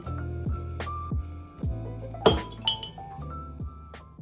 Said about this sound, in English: Then I divide the dressing into glass jars.